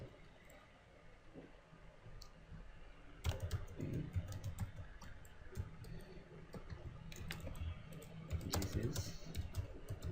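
Computer keyboard keys clatter in quick irregular bursts while someone types text for a responsive web design lesson, close and fairly quiet, with denser flurries of taps from the middle of the stretch onward.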